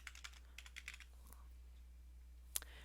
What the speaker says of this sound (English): I'm actually going to type my first name